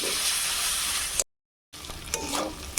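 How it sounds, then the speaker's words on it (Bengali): Spice masala with ginger-garlic paste and poppy seed paste sautéing on a low flame for potol kasha, a soft steady sizzle with light stirring scrapes, cut by a brief silent gap midway. "সব মশলাগুলো অল্প আঁচে ভালোভাবে কষিয়ে নিব।"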